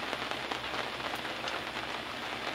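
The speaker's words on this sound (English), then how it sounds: "It's pouring with rain" Heavy rain pours down steadily, a dense, even hiss of drops drumming on a surface with no pauses and no voices.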